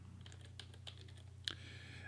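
Quiet computer-keyboard typing, a handful of soft, irregular key taps over a low steady hum, ending with one sharper click.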